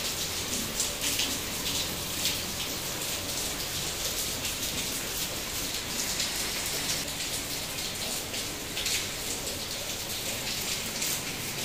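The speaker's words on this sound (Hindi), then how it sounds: "इतनी तेज बारिश लगी हुई है, आवाज़ आ रही होगी बारिश की आपको" Heavy rain pours down steadily, a dense, loud hiss of drops drumming on surfaces with no pauses.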